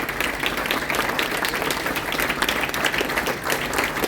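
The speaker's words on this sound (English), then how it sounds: "Round of applause for Rosa." Applause from an audience at a company awards night, dense and sustained clapping that fills the room at a steady loudness for several seconds.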